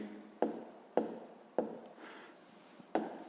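Pen or pencil on paper while writing out a sixth-grade fraction problem: five distinct, quiet scratchy strokes at uneven intervals, close by, with soft rubbing between them and no talking.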